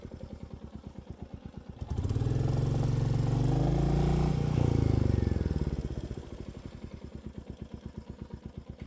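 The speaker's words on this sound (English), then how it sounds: "I just moved the bike a little backwards, forwards, and tried to move it out of where it got stuck" Royal Enfield Meteor 350 motorcycle stuck on an offroad trail, idling with a fast steady thump, then revving hard for a few seconds as the rider works it free before settling back to idle.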